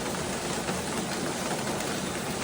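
Steady rain falls without pause, a dense broadband hiss holding even for the whole stretch, with no voices.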